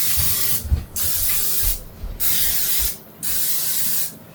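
Three short bursts of oil spray hissing onto a preheated waffle iron, close up, separated by brief pauses.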